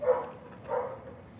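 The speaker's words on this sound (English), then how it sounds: "that dog's starting to drive me nuts a little bit" A dog barks twice, muffled and somewhat distant, the two short barks spaced well apart in an otherwise quiet indoor room.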